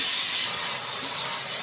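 A pressure cooker with beef inside hisses steam, a steady, loud, continuous hiss with no talk.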